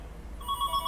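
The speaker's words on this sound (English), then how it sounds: "Incoming call." An incoming call begins to ring in a light aircraft cockpit, a short electronic tone starting partway through over a low engine hum, brief and without speech.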